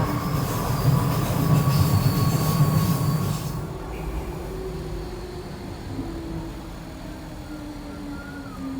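A train rumbles loudly along the rails near Lewisham and Deptford, London, with a squealing wheel tone, then the noise eases into a quieter steady running hum.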